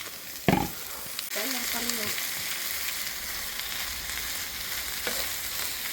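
Potatoes and corned beef sizzle steadily in a frying pan while being stirred, with a few scraping clinks of the utensil against the pan over the constant close crackle.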